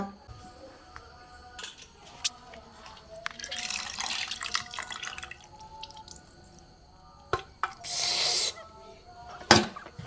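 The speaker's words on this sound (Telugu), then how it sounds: "ఇంకొంచెం నీళ్ళు పోసుకుంటానండి నేను" Water poured into a cooking pot in a village kitchen, heard as short splashing bursts and trickles between drips and small clanks, close and moderately loud, with faint talk in the background.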